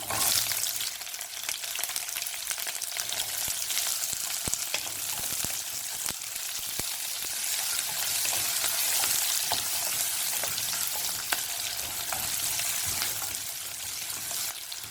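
Onion, green chilli and garlic sauté in a hot pan, giving a continuous bright sizzle with occasional stirring clicks and no voices.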